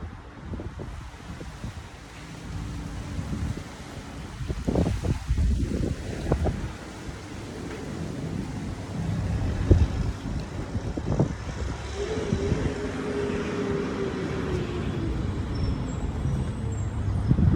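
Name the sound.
wind blowing outdoors into the microphone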